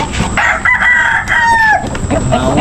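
A rooster crows loudly and close by, one long drawn-out call, while chickens cluck around it in a yard and a voice briefly speaks underneath.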